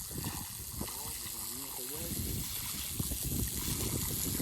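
Water pours steadily into a tractor trailer loaded with sand to wash the salt out, a continuous rushing gush under a man's nearby speech.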